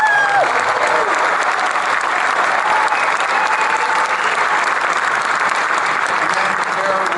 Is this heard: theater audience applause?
yes